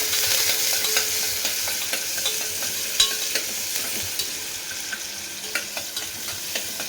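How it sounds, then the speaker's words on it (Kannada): Finely chopped onion with curry leaves fries in a pan for a vegetable kurma, stirred as it goes. A steady, close hiss of sizzling runs throughout, broken by irregular scraping and tapping of the spoon, with one sharper knock midway. "ಒಂದು ಸಣ್ಣ ಹೆಚ್ಚಿನ ಈರುಳ್ಳಿ, ಅದೊಂಚೂರು ಚೆನ್ನಾಗಿ ಫ್ರೈ ಮಾಡ್ಕೋಬೇಕು."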